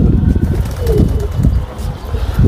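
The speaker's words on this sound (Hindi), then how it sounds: "गाइस एक नया कबूतर किसी का आ गया है" A pigeon coos softly a few times nearby amid rustling and low background noise.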